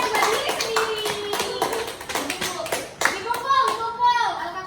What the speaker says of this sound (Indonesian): tepuk tangan buat diri sendiri.